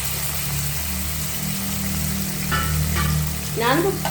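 Mustard seeds, cumin and unsoaked chana dal fry in hot oil for a cabbage fry, giving a dense continuous sizzle over a low steady hum, close by, with a few faint clinks toward the end.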